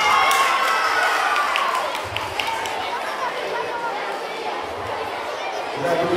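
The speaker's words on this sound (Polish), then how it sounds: "Brawa dla klasy piątej D." At a primary school spring hat contest, a crowd of pupils claps and cheers for class 5D, and excited chatter and children's voices mix with the applause through the clip.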